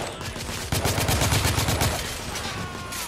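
Submachine gun fire in The Order: 1886 rattles out as a rapid, sustained burst of close, sharp shots lasting about a second, then tails off into a fainter echoing rumble.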